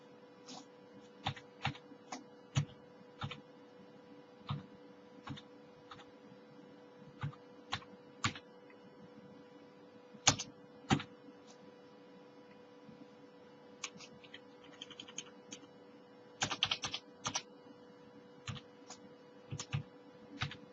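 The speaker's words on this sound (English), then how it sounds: "the sound of Lama editing" Irregular bursts of keyboard typing, soft clicks in short flurries and pauses against a steady low room hum, fairly quiet and close.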